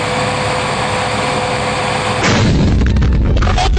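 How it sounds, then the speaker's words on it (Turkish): An overworked tractor engine roars loudly while towing a truck in Farming Simulator 22, a harsh continuous drone that shifts abruptly into a rougher, lower, popping growl partway through. "Traktör var ya bağıra bağıra gidiyor."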